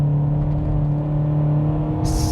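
A Fiat Argo Trekking 1.3 with a CVT gearbox pulls hard at full throttle, its engine holding a loud, steady droning whine heard from inside the cabin, with a brief noise burst at the end.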